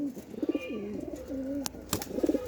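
A calm pigeon coos close by in soft, repeated rolling phrases, with a couple of sharp clicks between calls and no talking.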